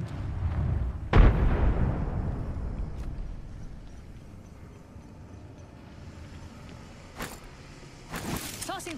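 A frag grenade in the Apex Legends video game bursts with a sharp, deep boom that rumbles and decays, followed by quieter game noise and a few later crackling pops.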